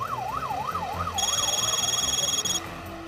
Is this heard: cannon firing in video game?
no